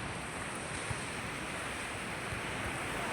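Sea waves wash along the seashore on a sunny day while someone walks at the water's edge, a steady broad rushing surf with some wind noise on the microphone and no speech.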